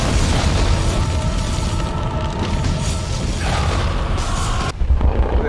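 A loud, sustained explosion in Earth Defense Force 5, a dense rumbling roar that fills the whole clip with heavy low-end boom and a brief dip near the end before surging again.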